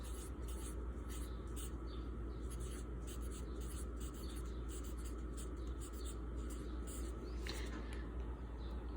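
Someone writes on a board, producing faint, steady scratchy strokes over a low background hum.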